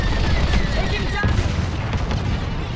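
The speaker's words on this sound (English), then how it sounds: "that was one hell of a large explosion" A large explosion in Star Wars: Squadrons, during space combat in the Mon Cala campaign, gives a dense, loud roaring rumble with a sharper burst partway through, then a sustained, slowly fading blast.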